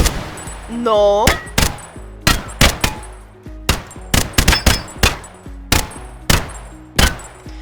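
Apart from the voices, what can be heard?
RPK machine gun firing in a Minecraft video game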